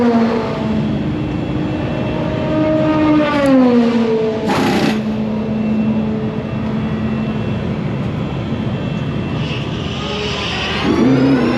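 Race cars roar around Road America during a qualifying session, their engines whining in sweeping pitches as they pass, with a steady loud rumble throughout and a sharp burst midway.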